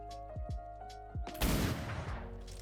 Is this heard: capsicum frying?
no